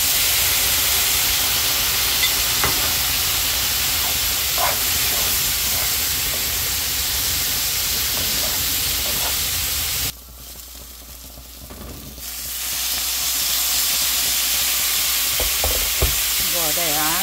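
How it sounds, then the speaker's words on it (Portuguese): Cooking wine poured into a pan of leek risotto sets off a loud, steady frying sizzle and hiss that drops away briefly in the middle and then returns, with no talking. "Agora vou pôr um pouco de vinho culinário."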